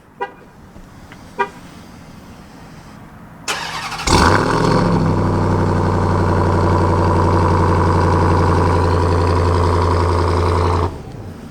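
A 2022 Ram TRX pickup's engine cranks and fires loudly up close after a couple of soft clicks, then holds a steady, deep, rumbling idle for several seconds before cutting off.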